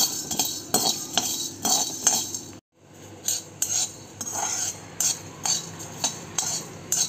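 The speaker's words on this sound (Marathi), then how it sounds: "धणे आणि मिरी लवंग आणि इलायची भाजून घेऊया. अगदी मीडियम फ्लेमवर भाजून घ्यायचे आहेत आपल्याला." Coriander, black pepper, cloves and cardamom are dry-roasted in a pan over medium flame, with rhythmic metallic scraping and clinking strokes of a utensil stirring the spices, broken by one brief pause.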